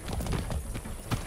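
Hooves clip-clop in a quick, steady gallop with a whinny mixed in, loud and close, as a horse is ridden in the video game Far Cry 6.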